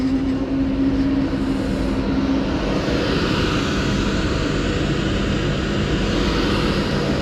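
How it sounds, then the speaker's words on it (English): An Avanti West Coast Class 390 Pendolino, unit 390 118, pulls away on an Edinburgh service at Lancaster on the West Coast Main Line, a steady broadband rumble and roar holding loud throughout, with a faint tone fading early. "off goes the 1211 Avanti West Coast service to Edinburgh"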